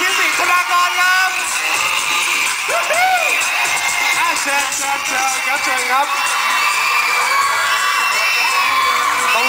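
A crowd of fans screaming and whooping at a Thai fan event as a performer is invited up, a dense continuous roar of high shrieks, loud throughout, with a host's voice briefly heard.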